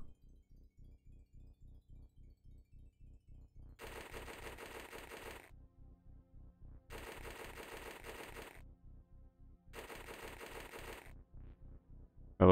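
Weapon fire in the OpenXcom strategy game, with three separate bursts of rapid automatic fire, each lasting about a second and a half, over a faint steady ticking in the background.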